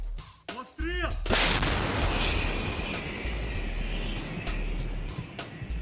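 A 155 mm self-propelled howitzer fires one deafening blast, followed by a long rolling echo that slowly fades; a faint whistling sound comes just before the shot.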